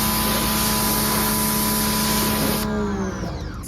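Pressure washer spray rinsing the lower panels of a car, a loud steady hiss with an underlying pump hum that cuts off near the end, close by.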